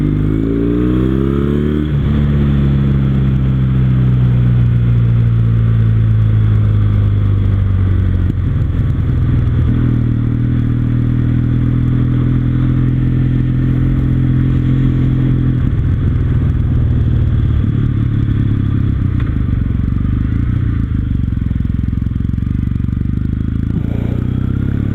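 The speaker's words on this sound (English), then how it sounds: "Hopefully the exhaust sound comes through on the video" A Kawasaki W800 cafe racer motorcycle is ridden with its exhaust loud and close throughout, a deep throbbing engine note that rises and falls as it revs and shifts, with wind and road rumble underneath.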